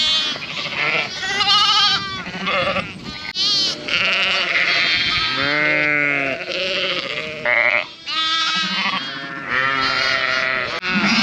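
A flock of sheep being driven between fields bleats loudly and almost continuously, many overlapping calls near and far from several animals at once.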